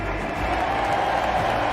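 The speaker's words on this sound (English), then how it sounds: "give yourselves a round of applause for being here with us today" A packed stadium audience at the Fortnite World Cup Finals in Arthur Ashe Stadium applauds in a dense, steady roar of clapping and crowd noise that fills the whole moment.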